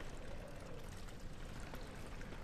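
Flowing water in Amnesia: The Dark Descent makes a faint, steady rushing and trickling sound that continues evenly, heard alone with no voices.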